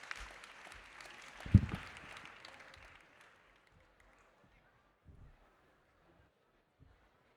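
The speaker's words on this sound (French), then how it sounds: "On peut les applaudir." A conference audience claps for a team at a Carrefour reuse and suppliers event, with a few seconds of moderate applause that quickly dies out into near silence and a couple of faint knocks.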